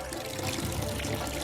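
Water runs steadily from an ablution tap at a mosque, a continuous close splashing flow with no talking.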